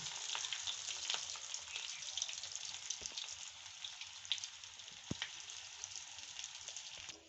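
Ragda patties deep-fry in hot oil until golden, giving a steady, fine bubbling sizzle like light rain with occasional small pops, fairly quiet and continuous, with no voices.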